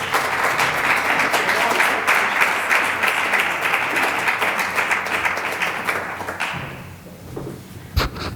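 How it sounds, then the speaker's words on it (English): Sustained, full round of applause from a lecture audience welcoming a speaker to the podium, dense and steady for several seconds before tapering off, with a thump near the end. "So I'd ask you to welcome her to the podium with a round of applause"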